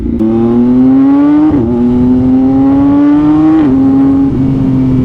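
A Yamaha MT-09 motorcycle engine revs loudly and close up, holding a steady high drone that climbs gradually, with brief dips as the throttle shifts, with no talking.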